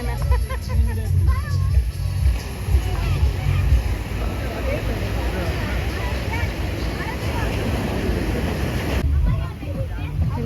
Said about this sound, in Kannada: ಅಲೆಗಳು ಹೆಂಗೆ ಹೊಡಿತಿದೆ ಗೊತ್ತಾ?